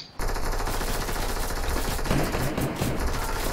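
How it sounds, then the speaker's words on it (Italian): Rapid, dense automatic gunfire from a video game battle fires from all sides, continuous bursts and volleys sustained loudly throughout after a brief quiet start. "Sto cercando di scappare, ma da tutti i lati mi stanno sparando"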